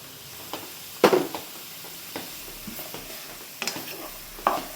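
Green chilies for a samosa filling sizzle in a hot pan with onions, a steady low fry broken by sharp scrapes and clinks of a spoon stirring every second or so.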